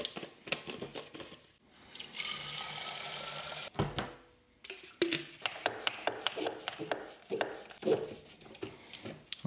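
Tap water poured onto a hat to mimic rain, heard as a steady spattering patter with irregular sharp taps and drips, fairly close and fairly quiet.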